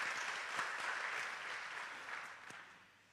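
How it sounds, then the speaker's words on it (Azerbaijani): Congregation clapping together in a church worship service, a steady dense patter of many hands filling the room, fading slightly toward the end with no talk over it. "Burada alqışlayın Rəbbi"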